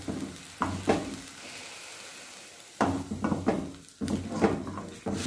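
Tomatoes sizzle and fry in a pan for a radish sambar, with faint steady sizzling broken by several sharp clatters of stirring and utensil knocks against the pan.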